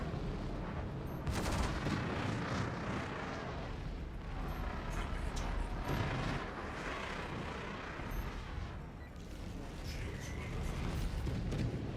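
Gunfire from a PTU .22 at a shooting range, dense broadband blasts and rumble filling the whole stretch with sharp cracks near the second and sixth marks, loud and sustained.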